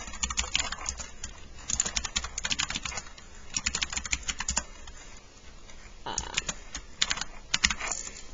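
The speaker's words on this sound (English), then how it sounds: "I'll just type a couple of names" Computer keyboard typing in quick bursts of close, crisp key clicks, pausing briefly around the middle before another flurry of keystrokes.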